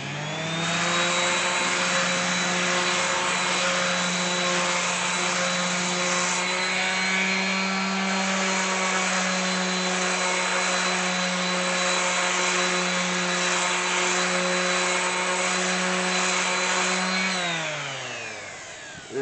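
A power sander refinishing a wooden porch swing whines steadily at close range for a long stretch, its motor tone holding even before dropping in pitch as it winds down.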